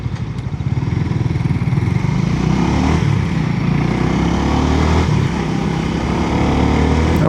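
A motorcycle on a late-night ride around KL gives a steady, loud engine drone with constant road rumble, its pitch holding fairly even throughout.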